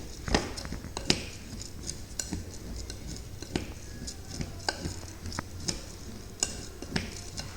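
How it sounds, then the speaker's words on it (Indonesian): A spoon stirs a carica seed oil shampoo bar mixture in a container, making light scraping and clinking taps at an irregular pace, with soft clicks scattered throughout and no talk. "Setelah itu kita aduk sampai rata ya."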